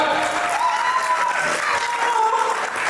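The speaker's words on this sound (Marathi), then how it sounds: "कडक टाळ्या झाल्या पाहिजे." Audience applause for the organisers at a Marathi community gathering, a steady full-room clapping that holds loud and even throughout without a break.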